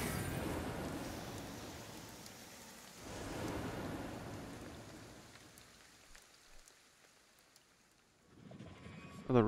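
Steady rain pours in Ghostwire: Tokyo as a soft, broad hiss. It swells briefly, then thins and dies away, and a voice comes in right at the end.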